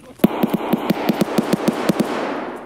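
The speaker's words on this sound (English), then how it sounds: "That's not me shooting." Rapid volley of gunshots from another player in Escape From Tarkov, about a dozen sharp cracks in a steady rhythm, fairly loud and close, with no talk over them.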